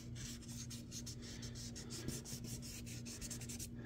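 Sandpaper rubbed back and forth over a 1/350 scale model kit part during final prep, a steady close, quiet scratchy rasp with quick repeated strokes throughout, no talking.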